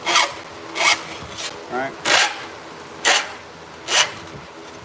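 A metal file rasping along an edge in bursts, about seven separate strokes spaced roughly half a second to a second apart, close and crisp, with a brief spoken word between strokes.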